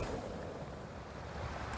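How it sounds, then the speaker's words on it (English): Wind buffeting at the seaside during a fishing competition, a faint steady rumbling gust with microphone rumble and no speech. "Bloody wind, man. Hear it?"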